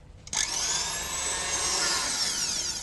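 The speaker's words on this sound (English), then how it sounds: "And I'm going to whisk those together." Electric mixer whisking eggs and caster sugar for a chocolate roulade sponge at full speed, a steady close whirring hum that kicks in abruptly and holds unbroken.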